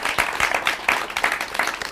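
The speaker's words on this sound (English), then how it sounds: "Give a round of applause one more time for that." Audience applause following a fashion designer's showcase, a dense burst of many hands clapping close by for about two seconds with no talk over it.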